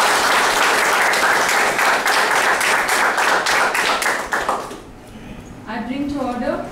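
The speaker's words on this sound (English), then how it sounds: "Can we have a big round of applause?" Applause from a meeting audience for Mrinalini Prasanna: a loud, steady wave of many hands clapping that fades out, followed by a voice speaking once it dies down.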